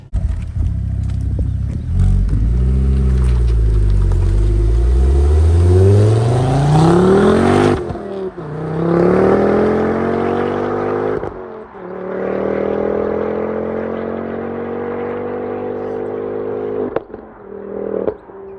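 A Ford Focus RS Mk2 with a full 3-inch Miltech turbo-back exhaust and sound imposer delete revs hard and accelerates. The loud engine note climbs through gears, drops on a lift, then pulls again steadily with no talk.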